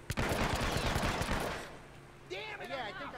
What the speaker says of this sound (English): I think I heard a gunshot